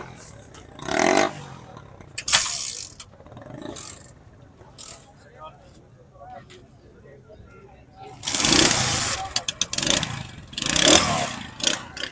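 A used motorcycle at the Hyderi bike market in Karachi is revved in bursts between stretches of lower idling, close and fairly loud, with people talking in between.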